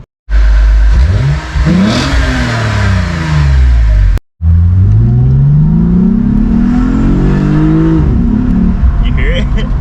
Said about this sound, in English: Can't wait to hear the new exhaust sound